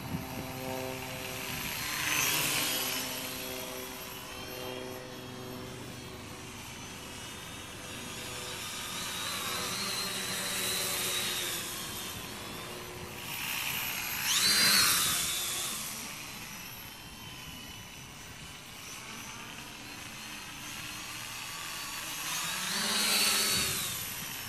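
Cheap lightweight quadcopter drone with a KK2 flight controller flying, a high whining rotor buzz that rises and falls in pitch as it maneuvers, surging louder in a few brief bursts.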